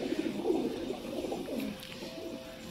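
A pigeon coos softly and repeatedly close by, low rolling calls filling the short stretch with little other sound.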